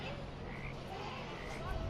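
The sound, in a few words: frogs croaking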